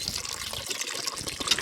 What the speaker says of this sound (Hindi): इसलिए मैं जल्दी जल्दी इसमें पानी भरती हूँ।